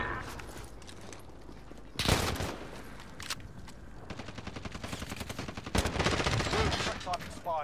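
Video game gunfire rings out in sharp bursts and rapid automatic volleys, loud and close, with quieter stretches between them and a player's voice talking briefly over the action.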